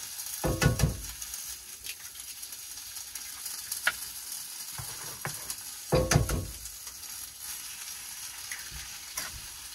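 Maple blossoms and eggs hiss in a fry pan at a van-life campsite, with a steady faint sizzle broken by a few louder clatters and stirring bursts, no voices.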